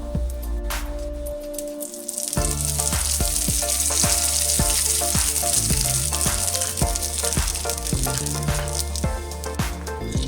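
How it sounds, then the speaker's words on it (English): Spring roll sheet pieces drop into hot oil and erupt into a loud, dense sizzle of bubbling and crackling after a brief quieter start, continuing steadily with light clinks, no talking. "fry the spring roll sheet pieces and remove when they are crisp"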